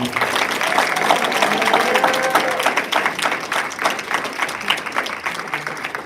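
Sustained applause fills a high school graduation hall for the SPIRE Institute and Academy class of 2022, a dense, even clatter of many hands that keeps going throughout.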